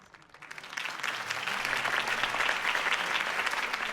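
A crowd at a Harvey Dent campaign rally in a Batman video game breaks into applause, swelling from quiet to a full, sustained clapping roar with faint cheering.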